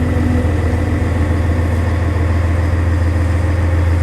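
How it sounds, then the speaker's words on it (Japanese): The engine of a tuna longline fishing boat out of Oma runs at dawn, a loud, steady low drone with an even throb throughout and no voices. "早朝6時半、しばし休息していたエンジンが始動する。"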